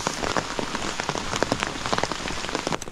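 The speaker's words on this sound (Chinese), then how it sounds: "下雨喽！" Steady rain patters on surfaces during an afternoon thunderstorm on a mountain hiking trail, a dense, continuous hiss of close drops with scattered louder splashes and no voices.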